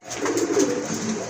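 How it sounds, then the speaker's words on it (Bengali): A Rajgolla pigeon, sky-blue coloured, gives a short soft throaty coo, close and alone, lasting just over a second. "আরেক জোড়া কবুতর, রাজগোল্লা কবুতর, আকাশি কালারের ভিতরে"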